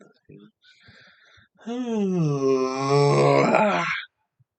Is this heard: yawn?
yes